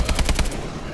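Rapid bursts of automatic gunfire from an assault drone in the Exo Zombies video game, about five quick close shots in under half a second, then a fading tail.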